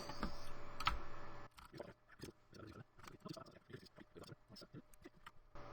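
A computer keyboard clicks as a Control, Alt, Shift and N shortcut is pressed, giving a run of quick, close, sharp key taps in a quiet room.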